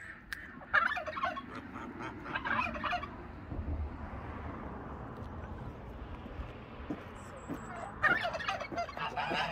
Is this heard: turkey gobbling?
yes